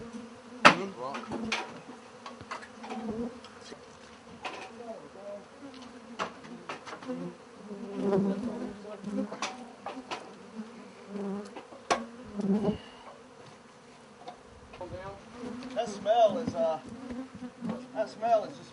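Bees swarm and buzz around an old honeycomb hive inside a house wall in west Houston, a steady droning hum with occasional knocks and tool sounds while people talk nearby.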